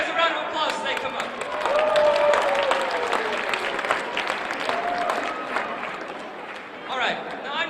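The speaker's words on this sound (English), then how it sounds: "give these guys a round of applause as they come up" An audience applauds with sustained, dense clapping that swells and gradually fades at an indoor event, with voices and a few shouts mixed in.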